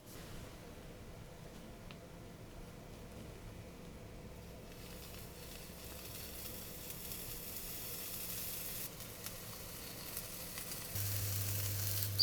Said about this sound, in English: let's go carry on frying our American pancakes.